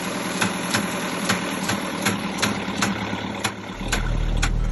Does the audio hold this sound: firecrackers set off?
no